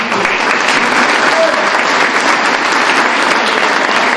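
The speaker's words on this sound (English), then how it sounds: "let's give another round of applause" Steady, dense applause from a crowd, loud and continuous throughout with no pauses.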